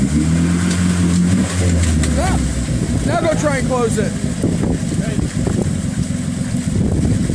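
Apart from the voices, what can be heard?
tractor engine with muffler underwater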